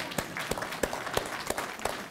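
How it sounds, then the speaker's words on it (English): Sparse, rhythmic clapping from a small audience at the 125th anniversary of Chicago's Auditorium Building, a few distinct claps spaced evenly, quiet and nearby. "do we have applause for Beatrice?"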